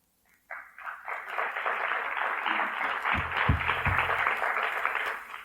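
Applause from the audience at a mock Toastmasters meeting starts abruptly and holds as a steady, fairly close wash of clapping, with a few low thumps partway through.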